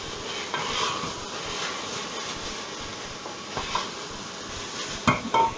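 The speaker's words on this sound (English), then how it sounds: "I can hear that sizzling quite hard now." Mince and onions sizzle hard in a hot pan, a steady crackling hiss with occasional sharper clinks of utensil against pan toward the end.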